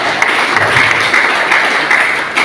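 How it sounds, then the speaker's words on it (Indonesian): A church congregation at an outdoor revival meeting on a village field claps loudly and continuously, a dense, sustained wash of many hands close to the microphone. "Beri tepuk tangan dulu buat Tuhan."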